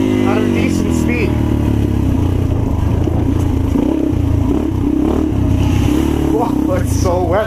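A modified 2016 Yamaha TTR230 dirt bike with altered gearing and rejetted carburation runs loud and close, its engine note rising and dropping through gear changes while the rider talks over it.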